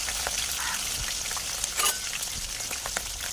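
Dried red chillies dropped into hot oil with cinnamon and curry leaves for an egg curry, giving a steady, fairly loud sizzling hiss with scattered crackles and a brief louder spit near the middle, no talk.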